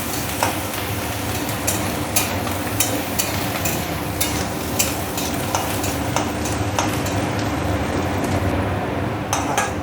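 Onions fry in oil while a spoon stirs them, a steady sizzle punctuated by regular clinks and scrapes on the pan, close by, without voices.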